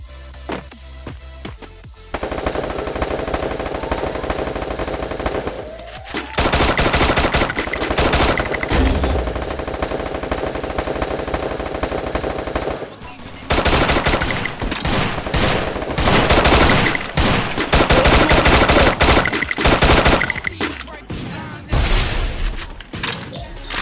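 Rapid automatic gunfire and bursts of shots from a multiplayer video game shooter, loud and dense for most of the stretch with brief pauses, occasional booms and thuds mixed in and no talk over it.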